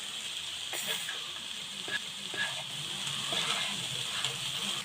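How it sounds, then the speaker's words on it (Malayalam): Cooked spinach sizzles steadily in a hot pan as it is stirred with salt, a continuous close frying hiss with a few soft scrapes and clicks of the spoon, under low background hum and no talking. "എല്ലാം ഒന്നും കൂടെ ഒന്ന് നമുക്ക് നന്നായിട്ട് മിക്സ് ചെയ്ത് കൊടുക്കാം"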